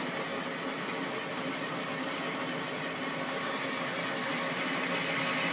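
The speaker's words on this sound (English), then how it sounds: "The noise you're going to hear is the bearings in my motor, which need to be replaced, so try not to pay attention to the screeching sound." Worn motor bearings on a South Bend 13 lathe screech continuously and loudly while it cuts 1117 steel, a steady high squeal over the running motor hum.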